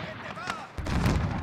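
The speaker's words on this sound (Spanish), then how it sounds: "Yo voy tirando cohetes." Rockets fired in the Warzone battle royale game: a sudden explosive launch boom that swells into a loud, sustained blasting rumble, with a quieter stretch before it.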